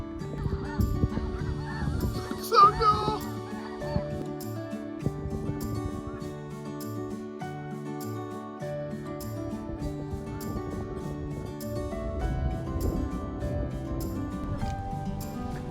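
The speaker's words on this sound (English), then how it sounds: "But the cranes are dancing." Dancing cranes give repeated honking, trumpeting calls over a steady natural background, with one louder burst near the start and a brief spoken remark.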